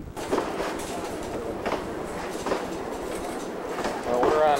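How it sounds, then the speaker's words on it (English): A passenger train in Australia or New Zealand climbing uphill, heard from inside as a steady rumbling roar with faint rhythmic rail clatter. The noise stays continuous throughout and swells slightly near the end. "we're on this train that's going, well, right now we're going up."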